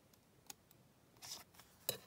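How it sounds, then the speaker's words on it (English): Scissors cut a slit in junk mail paper with a few faint, quick snips at close range in a quiet room. "I'm just going to cut a slit here."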